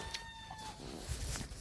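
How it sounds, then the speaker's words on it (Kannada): Chickens let loose near a farm shed, giving a few short clucks and squawks at moderate distance against outdoor background noise, no speech. "ಕೋಳಿಗಳನ್ನೆಲ್ಲ ಬಿಟ್ಟಿದ್ದೀನಲ್ವ"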